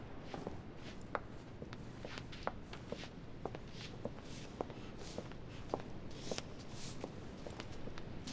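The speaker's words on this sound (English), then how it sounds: "I hear someone shuffling about." Soft shuffling footsteps in The Council video game, quiet scuffs and light steps scattered irregularly over a faint background, distant and low in level, with no talk.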